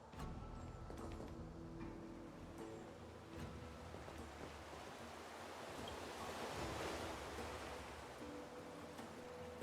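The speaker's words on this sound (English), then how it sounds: "just listening to the waves and watching the ocean" Ocean waves in a video game on a windy day wash in a steady, broad surf roar with gusty wind noise, swelling slightly in the middle and continuing without pause.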